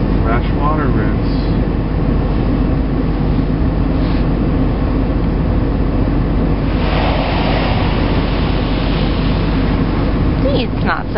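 Fresh-water rinse in an automatic car wash, heard from inside the car: a steady, loud rushing spray of water drums over the vehicle, with a brief surge partway through.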